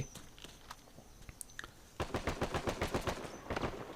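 Gunfire in the video game Uncharted 4: a few scattered shots, then a rapid burst of automatic fire and another short burst, moderately loud with no talk.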